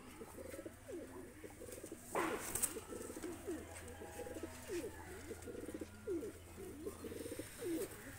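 Two Oman blood pigeons coo in a repeated rhythmic run of low calls, with a brief flutter of wings near the start and no talking.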